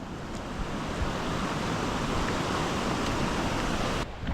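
Sea waves wash steadily against a rocky shore on the Dapoli coast of Konkan, a continuous close roar of surf with some wind across the microphone, unbroken for the whole stretch.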